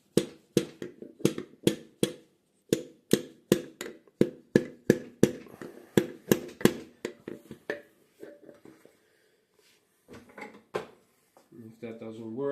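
A series of sharp knocks on a hub motor, struck with the backside of a hammer one after another at a steady pace, loud and close, then a pause and some scraping handling noises.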